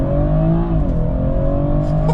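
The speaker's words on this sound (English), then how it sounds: "I'm gonna hold down the brake firmly, hold down the gas, red flag shows up." A BMW 440i xDrive Gran Coupe in sport mode launching from a brake-held standstill, its engine droning loud and steady with a rising tone as it accelerates, heard from inside the car.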